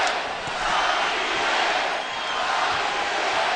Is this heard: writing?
no